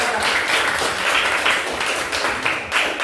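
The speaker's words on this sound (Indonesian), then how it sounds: "Oke, tepuk tangan buat kelompok 2" A classroom of students applauds a group presentation, steady broadband clapping filling the whole stretch at a moderate level with no voices over it.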